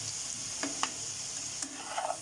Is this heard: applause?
no